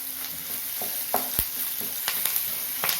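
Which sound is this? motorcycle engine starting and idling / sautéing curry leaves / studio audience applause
sautéing curry leaves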